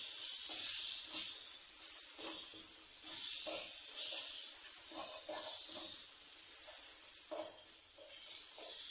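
Homemade ground-chili prawn gravy masala lightly sautéing in a pan, a steady soft sizzle and hiss running throughout with small popping crackles scattered across it, no voices.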